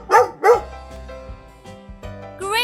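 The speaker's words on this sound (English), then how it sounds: "Here comes a friendly dog." A friendly dog barks twice in quick succession, loud and close, over a soft sustained musical backing that continues after the barks.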